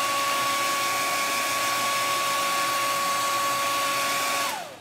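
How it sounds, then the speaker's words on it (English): Close blow dryer aimed at a freshly made family-themed craft display, a loud steady whine with a constant tone that holds for several seconds, then winds down as it is switched off. "I'm going to hit it with the blow dryer"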